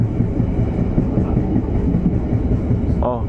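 Kutojaya Selatan passenger train rolling straight through a newly built station, heard from inside as a steady, loud rumble with a rhythmic clickety-clack of wheels on rail joints; a voice speaks briefly near the end.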